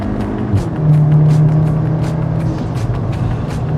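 A Cupra Formentor VZ engine running close by with a steady low drone, briefly rising in pitch as it revs, then settling back into a continuous hum.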